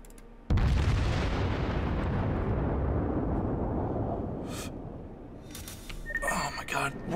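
A big booming salvo from the Japanese battleship Amagi in the World of Warships naval game erupts suddenly and loudly, then rolls and decays over several seconds, followed by faint game beeps and effects.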